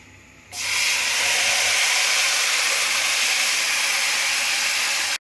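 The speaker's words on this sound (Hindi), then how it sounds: "सूजी भून चुकी है। अब इसमें मैं शीरा डालूंगी।" Sugar syrup is poured into hot roasted semolina for almond halwa, setting off a sudden loud, steady hiss of steam and sizzling that continues for several seconds and then stops abruptly.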